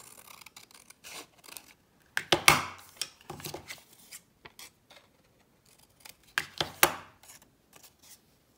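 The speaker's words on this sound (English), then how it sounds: "I can easily just cut that a little bit more." Scissors trimming a paper journal pocket: a series of crisp, close snips and paper rustles in irregular short bursts, with a couple of louder cuts and quiet gaps between, no talking.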